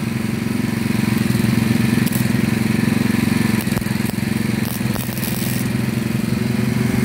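A small engine fitted with a new carburetor, still leaking gas into its oil, runs loud and steady, its rough buzzing drone continuous and close for several seconds with slight uneven wavering.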